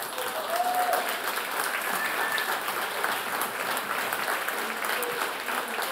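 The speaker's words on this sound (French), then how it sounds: "Donc, vous pouvez vous applaudir vous-même." Audience applauding at an Innu community gathering, a broad, even roar of many hands clapping in a large space, steady and sustained with faint voices and whoops mixed in.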